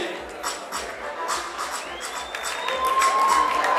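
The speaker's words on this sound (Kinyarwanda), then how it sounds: "Jalia kuarakaye amashyi menshi cyane kuri Kesha" An audience at a Rwandan movie award ceremony claps for the actress Kesha, a steady patter of applause that swells toward the end, with a voice speaking over it.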